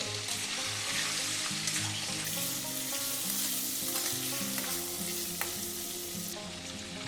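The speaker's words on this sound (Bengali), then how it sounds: "হালকা একটু ভেজে নেব" Steady sizzling of paneer frying in a pan, continuous and fairly close, with a crackling hiss that holds throughout without voices.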